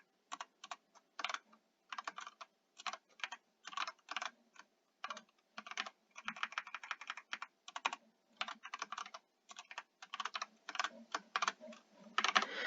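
Rapid keystrokes on a computer keyboard come in irregular bursts with short pauses between them. The clicking is close, crisp and steady throughout, with no voices.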